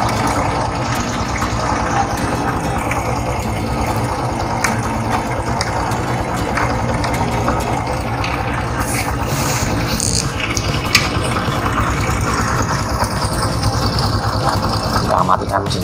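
A 2013 Honda Supra X 125 R motorcycle engine idling up close, a steady smooth mechanical drone holding level throughout with a few light rattles on top.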